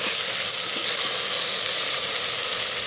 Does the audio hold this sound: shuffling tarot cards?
no